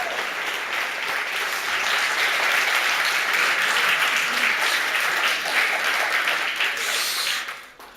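Audience applause at a TEDx talk, a full, continuous roar of many clapping hands that holds steady and then quickly fades out near the end.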